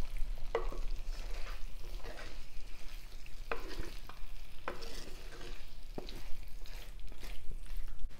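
Chicken gravy with curry leaves being stirred in a pan, soft sizzling with intermittent spoon clinks and scrapes against the pan, fairly quiet and close, no voices.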